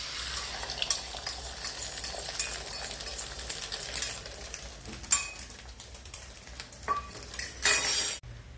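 Egg is whisked in a makeshift container with rapid scraping and clinking strokes, irregular and close, pausing briefly before a louder burst near the end, no talk.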